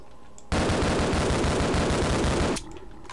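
Sustained automatic gunfire in the video game Half-Life comes as one loud, unbroken burst of about two seconds, then stops abruptly.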